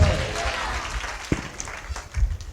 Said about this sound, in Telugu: అందరు చప్పట్లు కొడదామా గట్టిగా?